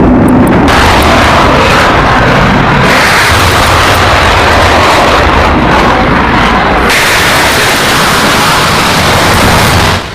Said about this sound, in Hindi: ये आप देख रहे हैं, फाइटर्स आसमान में उड़े उन मिसाइलों का जवाब देने के लिए।